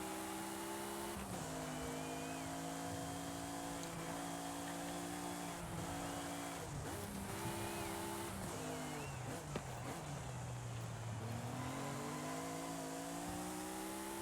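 A racing car's engine in Forza Horizon 5 holds a steady high rev with repeated gear shifts and a drop in pitch near the end, loud and continuous with no talk.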